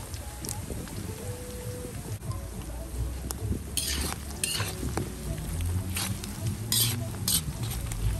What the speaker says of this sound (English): So we heat some oil and we add in the onion along with the bay leaf and curry